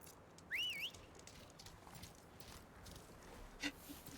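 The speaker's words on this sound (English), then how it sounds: "Let's give him a whistle." A rising, warbling two-part whistle calls a Clawstrider mount in the video game Horizon Forbidden West, brief and clear over quiet ambience, followed a few seconds later by a short sharp chirp.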